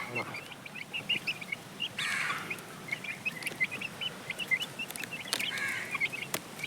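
Young chickens cheep and cluck in quick scattered bursts while eating termites, close by, with occasional rustling and a few louder clucks throughout.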